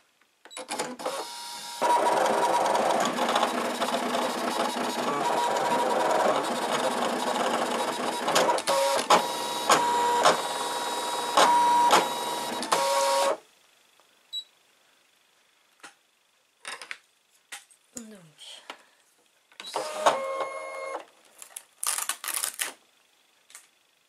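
A ScanNCut cutting machine cuts around stamped paper. It whirs and clicks steadily at close range for about ten seconds with rhythmic mechanical pulses, then stops, leaving scattered short clicks and handling noises.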